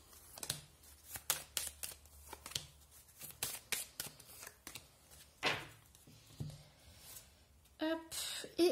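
A deck of tarot cards being shuffled produces a rapid run of crisp riffling bursts and soft slaps up close, with a little quiet speech mixed in among the card sounds.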